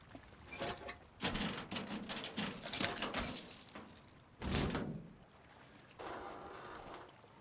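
Bolt cutters snapping a lock in the horror game Resident Evil Village in VR mode, a few metallic clanks, clinks and rattling handling noises in separate bursts with pauses between, fairly faint and without talk.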